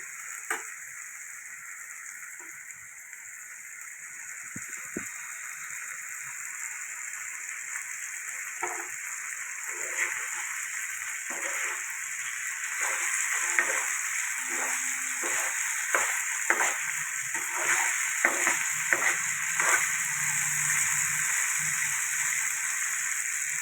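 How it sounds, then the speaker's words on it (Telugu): Raw banana curry fries in a pan with a steady, prominent sizzle. Scattered clicks and scrapes from stirring grow more frequent toward the end. "వేపుతున్నాం"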